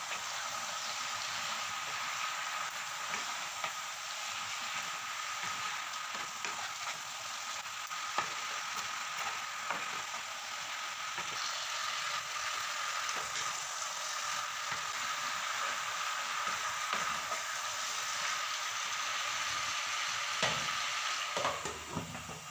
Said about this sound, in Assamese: এতিয়া এইখিনি ভালদৰে লৰাই দিম।